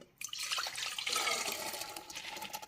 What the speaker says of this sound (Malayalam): അപ്പോൾ ഇനി നമുക്കിതൊരു പാത്രത്തിലേക്ക് ഒഴിച്ചു കൊടുക്കാം